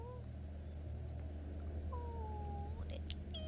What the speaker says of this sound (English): Oh, I haven't had a kitty meow in so long